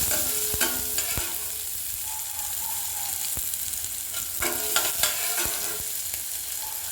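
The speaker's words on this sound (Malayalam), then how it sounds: "ഉള്ളി നന്നായിട്ട് വഴണ്ട് വന്നതിന് ശേഷം" Onions frying in a pan with oil, a steady sizzle broken by sharp scraping stirs and clinks of a utensil, close and without talk.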